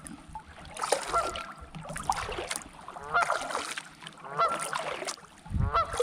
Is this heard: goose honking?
yes